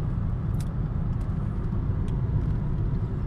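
A car drives along a road in New Zealand farm country, heard from inside as a steady, loud low rumble of engine and tyre noise with no talk.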